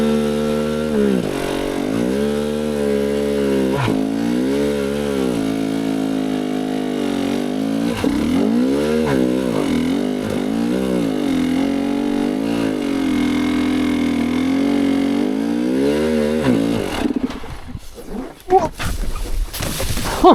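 A 2023 GasGas EC300 TPI two-stroke dirt bike engine labours up a steep, soft hill in first gear, loud and close with rising and falling revs throughout, then abruptly cuts out near the end.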